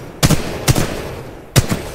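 Three sharp gunshots from a weapon in the video game Titanfall 2, fired singly with uneven gaps, loud and close, each with a short tail.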